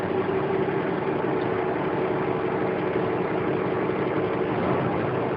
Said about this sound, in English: hear that little rev? What that does is it told me that it's ready to go.